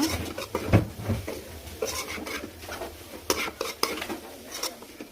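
A spoon stirs grated coconut into a pumpkin-greens and egg stir-fry in a pan, giving soft irregular scraping and tapping strokes close by, with light clinks against the pan.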